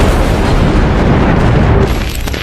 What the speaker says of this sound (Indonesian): meriam Krupp raksasa yang mampu menembakkan proyektil seberat 1 ton